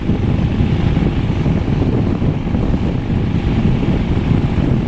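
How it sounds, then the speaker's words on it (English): Steady, loud crosswind in Kansas buffets the microphone in a constant low rumble with no breaks, and no voices or other sounds come through. "Kansas does have crosswind"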